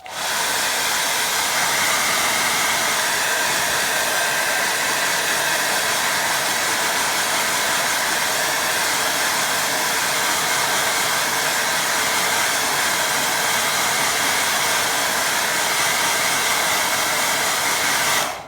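A hair dryer blows a loud, constant, close whooshing stream of air over a watercolour painting for the whole stretch, steady from start to finish.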